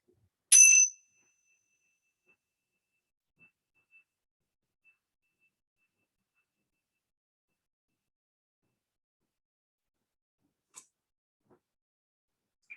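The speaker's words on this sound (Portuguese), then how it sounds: "Deixe que o som do sino seja um sinal para que você relaxe e traga a sua atenção para o momento presente." A single bell strike rings out clearly, its bright tone fading over a second, followed by long near-silence with a faint tap or two.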